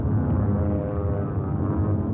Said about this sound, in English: show a bomber, one motor shot out, limping home